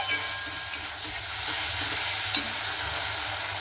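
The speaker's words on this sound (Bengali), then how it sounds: "এইভাবে কিন্তু 2 থেকে 3 মিনিটের মতো একটু নাড়াচাড়া করে নেব মাছটাকে" Small shrimp fry in a pan as they are stirred, a steady soft sizzle with light scraping and a brief clink near the end, close and continuous with no one talking.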